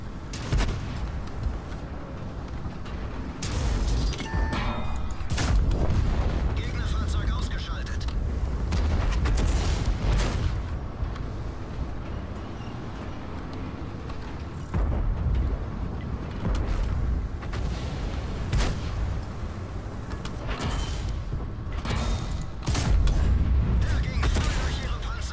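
Tank cannon shots and shell impacts in a World of Tanks-style game featuring the E100 German heavy tank, heard as several heavy booms and sharp blasts over a steady engine rumble, with a player talking throughout.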